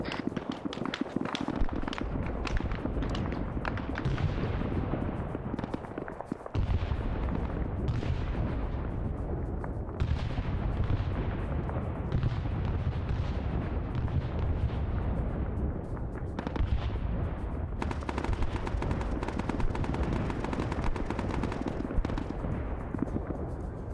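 Sustained bursts of gunfire and heavy artillery booms from a Vietnam War video game set at Khe Sanh, loud and continuous throughout, with dense overlapping explosions and firing filling the whole stretch.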